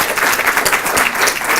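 Audience applause at a breast cancer presentation, a short dense burst of clapping from a room full of people, loud and close with no voices over it.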